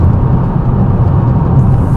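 An MG6 fitted with a tuning box accelerates during an overtaking manoeuvre, a steady close low engine rumble with road noise from inside the car, no voices.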